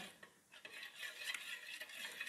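Potassium permanganate being stirred into a fish treatment bath, a soft swirling and scraping stir that runs steadily for a couple of seconds at moderate closeness, with no talking.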